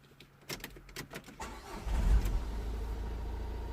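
A 2015 Vauxhall Vivaro 1.6 CDTi diesel van engine with a cutting-out fault, heard up close as a few sharp clicks and knocks followed by a loud low rumble that settles into a steady idle, no talking.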